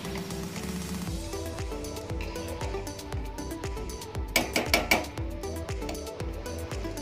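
A spoon stirs boiling rice in a pot, knocking against the metal in a series of repeated clanks over a low bubbling background, with a quicker burst of scraping strikes midway.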